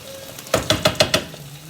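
Eggs for Pad Thai being stirred and moved around a hot pan: a quiet sizzle under five evenly spaced scraping knocks of a utensil against the pan, close and fairly clear.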